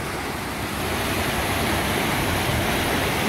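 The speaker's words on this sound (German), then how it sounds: "Wow, da schießt jetzt das Wasser rein." Seawater gushes through an opened seawater valve into a motorboat's hull, a steady, loud broadband rush of water that continues unbroken throughout with no talking.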